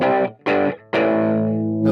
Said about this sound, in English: this distortion is interesting to me because it's a very ratty sounding distortion